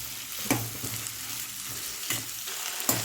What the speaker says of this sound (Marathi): आपण एक ते दोन मिनिट कांदा व्यवस्थित फ्राय करून घेतलेला आहे